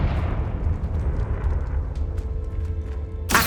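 A Confringo blasting spell exploding in Hogwarts Legacy, a rumbling boom that sustains for a few seconds, ending with a sharp burst.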